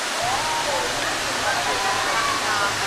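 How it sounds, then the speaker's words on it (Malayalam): Savari waterfall in Goa, at a crowded spot, gives a continuous, even rushing roar of falling water close by, with faint voices mixed in. "ഇതാണ് ഗോവയിലെ സാവരി വെള്ളച്ചാട്ടം."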